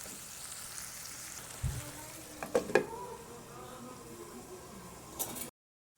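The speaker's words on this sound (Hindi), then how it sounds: "4 से 5 मिनट तक दोस्तों टमाटर को हम इस तरीके से थोड़ा भूनेंगे" Tomatoes fry in ghee for a mutton kofta curry, a soft steady sizzle with a few sharper clinks and scrapes of a spoon against the pan, fairly faint, ending abruptly.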